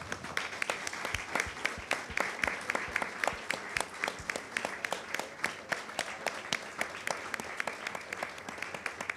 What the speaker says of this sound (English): we give a big round of applause to Vero, the father